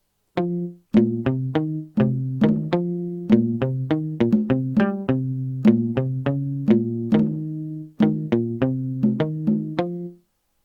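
Short plucked, muted guitar notes bounce in a quick rhythmic pattern, layered with conga drum hits, playing steadily for about ten seconds with brief pauses.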